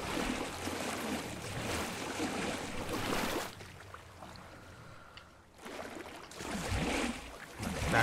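Water in a video game pool sloshes and splashes in bursts, dipping into a quieter lull before surging again, soft and fairly close.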